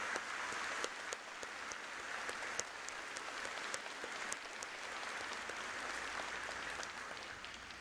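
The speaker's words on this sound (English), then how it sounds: "a round of applause for almost the entire stage party" A commencement crowd at Stevenson University's spring ceremony claps steadily in a sustained round of applause for the stage party, dense and moderately distant, with no speech.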